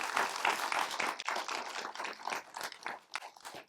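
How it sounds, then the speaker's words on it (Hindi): Applause welcomes a poet at a poetry gathering, a dense, fairly soft patter of many hands clapping with no speech over it. "एक बहुत ही वरिष्ठ कवित्री बहन आशा पांडे जी, उनका भी हम तालियों के गड़गड़ाहट से स्वागत करते हैं।"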